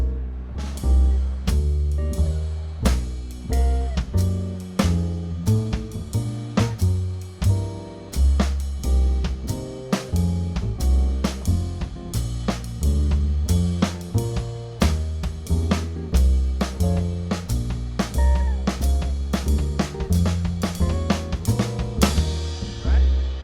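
A drum kit plays a syncopated timetable exercise in a jazz feel, a steady stream of kick, snare and cymbal hits with offbeat accents, close and loud, with no talking.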